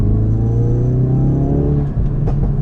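A 2020 Ford Focus RS engine rumbles steadily with a low droning tone, rising slightly as it pulls away, loud and close without any voices.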